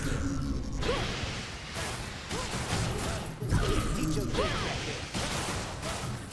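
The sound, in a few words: heat-seeking missiles firing in video game Hades 2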